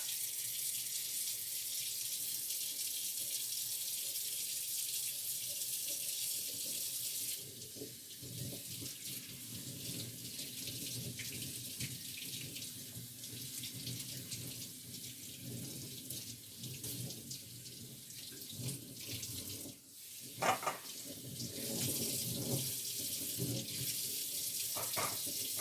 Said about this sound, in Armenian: Կանանչին մի քիչ թողել էի սառը ջրի մեջ, հիմա պետք է արդեն լվանամ